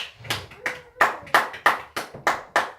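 A church congregation claps in steady unison, about eight loud even claps in a rhythmic beat acclaiming the Lord, close and clear with no talking.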